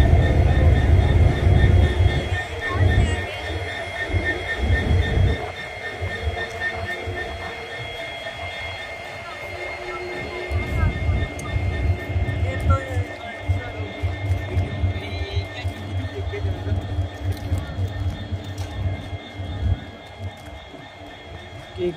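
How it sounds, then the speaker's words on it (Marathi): A train arrives at Vighanwadi railway station during a trial run, its low rumble steady beneath a crowd of chattering onlookers, with a louder close passage at the start and again around the middle. "इथं गाडी आल्यामुळे विगणवाडी रेल्वे स्टेशन पर्यंत"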